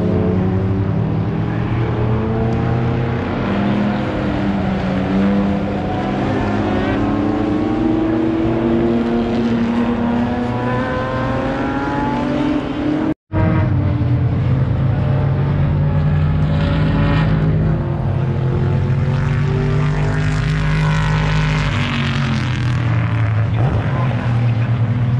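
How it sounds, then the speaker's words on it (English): V8 racing cars at the British Grand Prix roar past continuously, loud and near, with engine pitch rising and falling as they pass, a brief cut midway, and a voice talking over parts of it. "some amazing sounding V8s"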